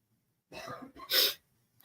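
A single sneeze bursts out near the microphone in a casual home setting, preceded by a short breathy intake and ending abruptly, then quiet.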